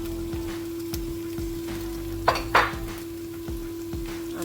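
Seasoning cube and curry powder being stirred into food in a cooking pot, a spoon scraping and tapping the pot in a slow repeated rhythm with a couple of louder clanks, over a steady hum, no voices.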